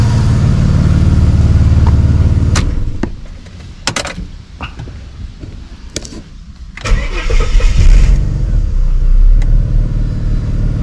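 An Australian car engine cranking and catching, revving loudly at first, then dropping away amid a few sharp clicks and clunks before rising again to a strong steady idle, close up and without speech.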